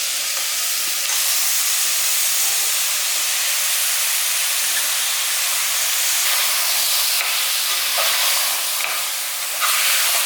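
Goat head meat sautés in a hot pan, giving a loud, continuous broadband sizzle and hiss that barely changes across the whole stretch.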